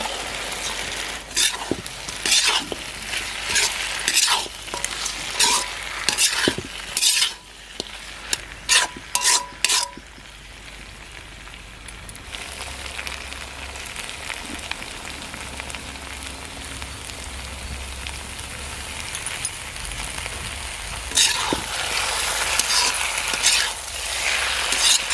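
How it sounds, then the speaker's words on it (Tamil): Fried chicken pieces are stirred into a sizzling chilli chicken sauce in a pan, with steady frying crackle under repeated scraping strokes of a spoon against the pan, close and continuous. "அந்த சிக்கனை இது கூட போட்டு ஃபுல்லாக மிக்ஸ் பண்ணிவிட்டு"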